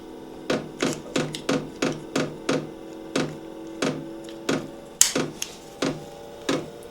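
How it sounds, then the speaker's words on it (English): A cheap Chinese diesel heater's fuel pump ticks in regular sharp clicks, about two per second, close and distinct against a quiet background. "Oh, there's a pump."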